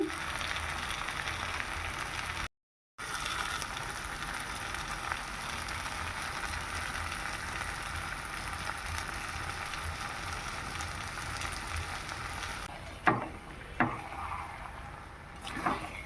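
Large prawns and shrimp curry stir-fried in a pan, a steady dense sizzle and crackle of frying oil close up, with a brief dropout and a few sharp scraping clacks of a spatula near the end.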